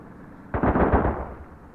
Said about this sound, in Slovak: On po mne strieľa ten žebrak.